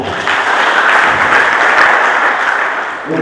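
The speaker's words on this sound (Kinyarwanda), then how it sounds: "Amashyi menshi cyane." Sustained audience applause at a youth university gathering in Burundi, dense and steady clapping from a large crowd, fairly loud throughout and fading slightly at the end.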